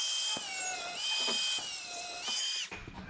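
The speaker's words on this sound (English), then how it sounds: "We're going to cut the U-bolts off right now." A power tool whines steadily up close while cutting through a U-bolt on a truck during an Air Lift 5000 airbag install, its pitch wavering slightly before it cuts off abruptly near the end.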